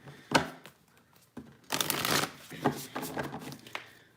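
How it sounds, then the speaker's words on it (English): A deck of tarot cards being shuffled up close: soft riffles and a louder burst of rapid card flutter, then lighter shuffling taps, with no talk. "Let me give these one more shuffle though."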